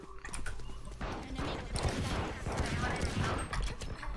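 Shotgun blasts in Valorant, a rapid burst of heavy, booming shots with clattering game effects, loud and dense throughout with no pause.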